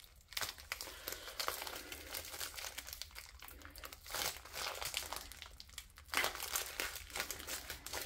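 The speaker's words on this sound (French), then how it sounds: "Bon, ça se déchire." Plastic packaging of a cross-stitch kit being ripped open, a continuous crinkling and tearing close by, with bursts of crackle and short pauses, no voices.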